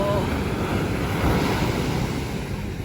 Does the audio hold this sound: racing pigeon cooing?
no